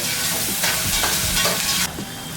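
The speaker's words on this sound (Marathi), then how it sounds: "आणि साधारण एक मोठा कांदा बारीक चिरलेला व्यवस्थित परतून घ्यायचं" Finely chopped onion sautéing in a pan for stuffed capsicum, a loud continuous sizzle with scraping stirs, cutting down to a quieter hiss near the end; no talk.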